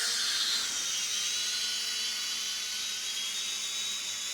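Small drone with brushless motors spinning up for takeoff, a steady high-pitched whine and buzz holding loud and close throughout with no talk.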